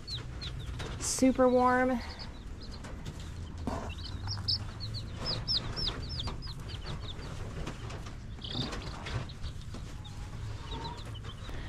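Chickens in a sheltered indoor pen warmed by a heater cluck softly and chirp over a steady low hum, with a short bit of speech nearby.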